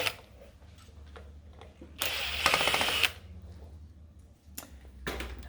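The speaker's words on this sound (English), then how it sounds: "I'm going to take the screws out." Screws being taken out of a 45 A double pole switch, a quiet clicking and rattling with a louder burst of metallic whirring and scraping midway and a brief sharp clatter near the end.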